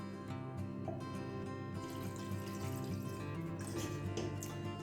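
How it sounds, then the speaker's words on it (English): Water poured from a tap into a pot over freshly peeled baby onions, a soft continuous trickle with light drips and splashes, fairly quiet and steady. "Cover them with a little bit of water."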